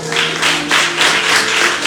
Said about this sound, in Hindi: ताली बजाओ उसको।